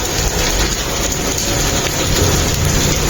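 Heavy rain mixed with falling hailstones pours down in a dense, constant roar, a loud unbroken wash of noise with no pauses over a few seconds.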